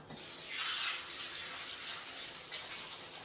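Garlic pieces are rinsed under a running kitchen tap, a steady gentle stream of water with slight swells as the flow hits the cloves.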